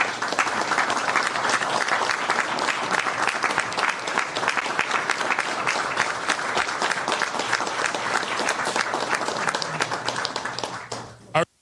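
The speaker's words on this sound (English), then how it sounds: "They're clapping as if he said something so great" An audience claps at a Chicago mayor's signing of an executive order, with sustained, dense applause from a room of people that fades out abruptly near the end.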